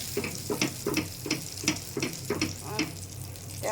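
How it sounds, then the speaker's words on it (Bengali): Mustard seeds crackle and spit in one tablespoon of hot oil while bottle gourd is cooked with egg, with sharp pops repeating every half second or so over a steady close sizzle. "এখানে আমি সরিষা ফোড়ন দিয়ে দিচ্ছি 1 টেবিল চামচ তেল দিয়ে"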